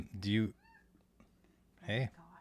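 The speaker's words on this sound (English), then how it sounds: "Now we have a cat coming to say hello." A cat meows twice indoors, two clear drawn-out meows close to the microphone separated by a quiet pause.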